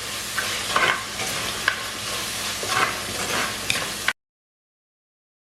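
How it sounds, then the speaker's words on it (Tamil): Tomato, cloves and cardamom sauté in oil in a pan for spicy chicken curry, giving a constant close sizzle with occasional stirring scrapes, which cuts off abruptly into silence near the end. "தக்காளி பழம் ஏலக்காய் எல்லாம் போட்ட பிறகு ஒரு 3 நிமிஷம் வதக்க போறேன்."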